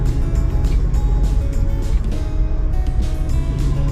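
Car driving along a road toward town, a steady loud engine and road rumble running continuously and close, without pauses or talk.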